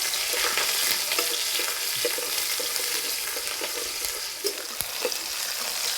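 Onions fry in hot oil with five-spice seeds and slit green chillies, making a dense, steady sizzle with occasional soft stirring taps, close and even, with no voices.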